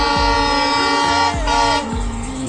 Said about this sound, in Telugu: సౌండ్ అయినా పడుతుంది, వస్తున్నట్టుంది మన ట్రైన్